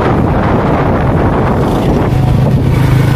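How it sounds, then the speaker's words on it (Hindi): Strong, dusty gusts roar steadily against the microphone while riding a Honda 125 motorcycle near Lahore, a loud, continuous low buffeting with no voices. "ये देखो इतनी हैवी किस्म की नेड़ी आ रही है और मोटरसाइकिल चलाना मुश्किल हुआ है।"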